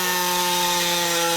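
A power tool cutting sheet metal for Ford tow truck bodywork gives a loud, steady, high-pitched whine with sustained tonal hum, close and continuous with no talk.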